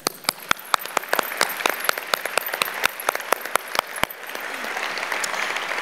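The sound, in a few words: audience applauding honorees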